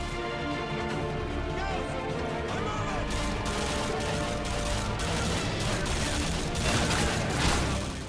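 Gunfire in the Call of Duty: Modern Warfare 2 campaign mission Contingency, a loud continuous fusillade of rapid shots and crashes, with a heavier burst near the end; a voice talks briefly over it.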